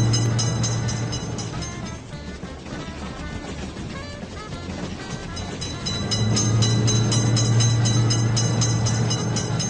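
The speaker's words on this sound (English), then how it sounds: "Train is coming!" Train passing in the Railroad Crossing mobile game by Studio WW Games, a steady rumbling rail roar with clattering wagons that swells louder in the second half, no voices.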